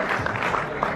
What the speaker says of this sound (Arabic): صفقوا لعيشه بزاف